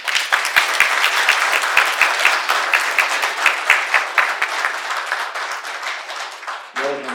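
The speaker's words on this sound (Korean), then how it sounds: "박수 한번 보내주시죠" Sustained audience applause at a Buddhist forum's founding anniversary ceremony, dense clapping filling most of the stretch before fading, followed by a brief voice at the end.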